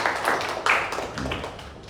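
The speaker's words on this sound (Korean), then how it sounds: "우리 감사의 박수를 할까요?" A church congregation clapping together in thanks during a New Year's Eve service, a short crisp burst of hand claps that fades slightly toward the end.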